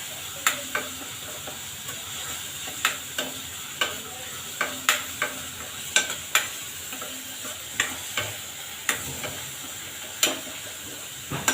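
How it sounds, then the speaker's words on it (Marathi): Ginger garlic paste sautéed with onion in a pan for Punjabi-style rajma masala: a low, steady sizzle punctuated by regular sharp clicks of a spoon stirring against the pan, close and moderately quiet, with no voices. "त्याच्यासोबत आलं लसूण पेस्ट पण परतून घ्यायची।"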